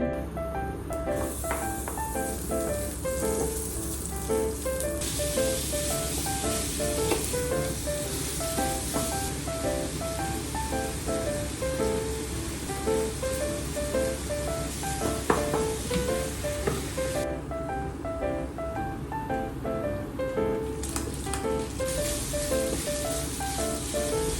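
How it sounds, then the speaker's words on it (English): Pork and bagu beans stir-frying in a pan give a steady, close sizzle and crackle that holds at an even loudness the whole time, with faint scraping of stirring and no talk. "It's a pork stir fry with bagu beans."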